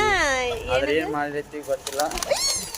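Soft pigeon coos rise and fall in short rounded calls, close by, mixed with a voice speaking briefly.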